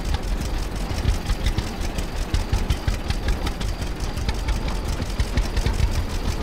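A tractor engine idles in Farmer's Dynasty on PS4, a steady, loud mid-pitched rumble with a fast, even chug that runs unbroken throughout with no voices.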